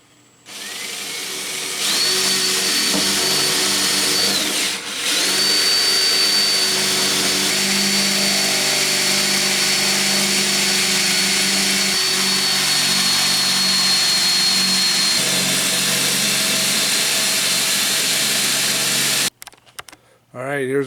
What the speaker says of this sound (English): start drilling some 1/8 inch drill bit holes